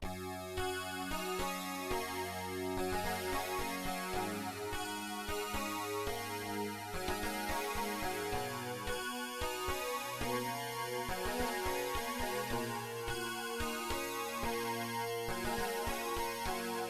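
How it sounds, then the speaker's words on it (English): A Sonicware Liven 8bit Warps plays a busy chiptune-style riff over sustained chord root notes, a continuous layered electronic melody, steady and alone. "I'm just going to play the root notes of that progression simultaneously with that little riff"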